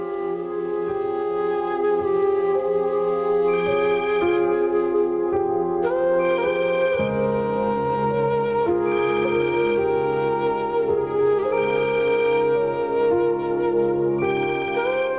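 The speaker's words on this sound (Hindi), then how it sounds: "आपका फोन बज रहा है।" A phone ringtone plays continuously, a looping electronic melody with repeated chiming notes, loud and close, with no voices.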